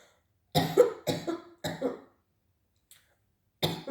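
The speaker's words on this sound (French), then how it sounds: "Pardon, je tousse." Four harsh coughs come close together, then a pause and a fifth cough, loud and near against silence.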